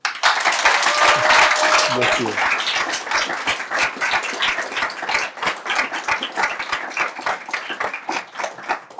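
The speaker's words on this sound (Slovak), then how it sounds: "poprosím o potlesk" An audience at a Slovak youth Mass event bursts into applause, dense clapping that starts loud and then thins into scattered claps, while someone speaks briefly over it.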